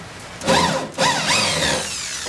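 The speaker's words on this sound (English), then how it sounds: "I guess we're drilling them out" A DeWalt drill bores out stripped front fender bolts on a Datsun 280Z, whining up in two close, loud bursts with rising pitch, then settling into a steadier grind.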